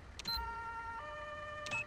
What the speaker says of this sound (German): eine deutsche Sirene